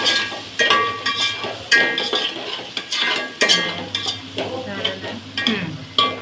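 A spice mixture of chili powder is stirred in hot oil in a pan, with steady sizzling under repeated scraping and clinking strokes of a spoon against the metal, no voices.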